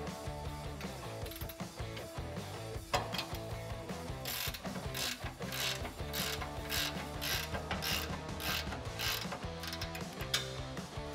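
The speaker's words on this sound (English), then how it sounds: "take an 18mm wrench and a 21mm wrench, and I'm actually going to loosen up the leaf spring shackle bolt here at the rear" Wrenches working the rear leaf spring shackle bolt on a 2011-2014 Ford F150 3.5L EcoBoost, giving steady ratcheting clicks and metallic mechanical clatter close up, dense and continuous with no talk.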